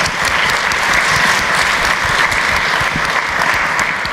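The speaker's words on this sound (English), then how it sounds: "Let's please give them a round of applause." Sustained audience applause at an MIT entrepreneurship competition launch event, a dense, steady wash of many hands clapping that fills the room evenly from start to finish, with no voices on top.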